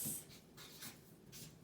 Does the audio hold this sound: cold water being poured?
no